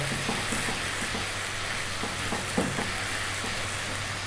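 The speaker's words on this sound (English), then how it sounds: "ginger garlic time, 1 tablespoon of. Let's give that a little mix into there." Ginger garlic paste is stirred into a frying lamb curry base in an Indian restaurant style. A constant hiss of sizzling oil runs throughout, broken by soft, regular scrapes and taps of the stirring utensil.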